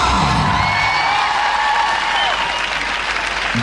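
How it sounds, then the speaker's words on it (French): Church congregation at a year-end worship programme cheering, whooping and applauding for joy, a dense continuous roar of crowd noise with shouts rising over it, loud and sustained throughout. "Tu peux faire mieux que ça en acclamant Jésus de Nazareth, en poussant des cris de joie."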